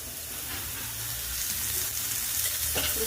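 Chopped onion frying in hot oil for a Marathi village-style mutton curry, a dense, steady sizzle and crackle close up with faint stirring scrapes, no voice over it.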